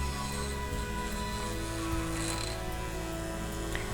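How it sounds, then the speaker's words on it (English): A Dremel rotary tool grinds a dog's nail, giving a steady mechanical whir and buzz that runs close and continuous throughout with a slight rattling texture and no talk. "you can gently put the nail against the Dremel and Dremel away"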